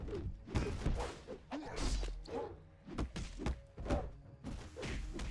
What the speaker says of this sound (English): When you punch someone or hit someone, you hear a big thud.